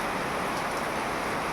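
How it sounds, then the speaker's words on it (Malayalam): Rain falls without a break as a dense, even hiss, close and steady, with no other distinct sounds. "മഴയാണ്, പലരും കണ്ടോ മഴ പെയ്യുന്നു"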